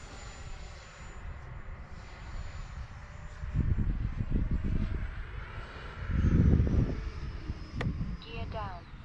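FMS Rafale 80mm electric ducted-fan RC jet on its second maiden flight, a steady whooshing drone that swells louder as it passes, under wind and outdoor noise with people talking nearby.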